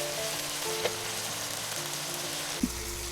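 Marinated pork for Filipino menudo frying in a pan, a steady close sizzle with a couple of small clinks and a brief knock near the end, no talking.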